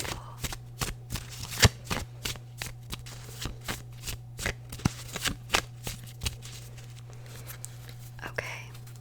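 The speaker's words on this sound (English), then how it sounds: "we're gonna shuffle" A deck of cards is shuffled at close range in a quiet room, giving a string of crisp riffling bursts and soft taps in an irregular rhythm, with occasional whispering.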